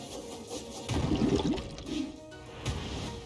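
Water magic attack in the role-playing game Chained Echoes, a rushing, splashing whoosh of water that swells and then fades over a few seconds, fairly loud and heard alone.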